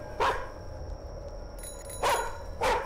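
A dog barks in the horror video game The Karaoke by Chilla's Art, three short barks at moderate distance with a pause before the last two, over a faint steady background hum.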